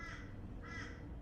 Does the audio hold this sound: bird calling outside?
yes